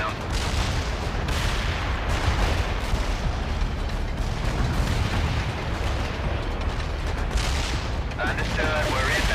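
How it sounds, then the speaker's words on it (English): Mortar strike explosions in the real-time strategy game World in Conflict, a dense, loud rumble of booms and blasts rolling on continuously, with radio-style voices talking over the barrage. "Mortar strike inbound."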